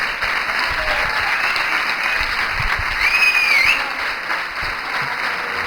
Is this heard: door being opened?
no